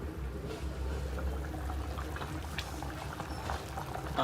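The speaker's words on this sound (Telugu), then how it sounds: "చూడండి ఫ్రెండ్స్ ఎలా అయితే ఉడుకుతుందో" Village-style fish curry with masala bubbling in a pot, a low continuous simmering burble with faint pops, quiet and close with no voices.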